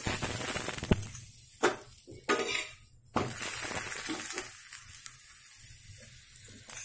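Oil sizzling on a hot pan while a paneer paratha cooks, a steady close crackle and hiss with a few sharp clinks of a utensil against the pan.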